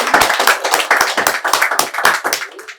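Loud, dense applause from an audience at a film premiere show, rapid overlapping claps held steady close to the listener, fading slightly at the end.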